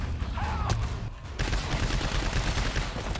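An automated turret in the video game GTFO fires a rapid, continuous stream of gunfire. Clattering mechanical bursts pause briefly, then resume, loud and busy against a low rumbling background.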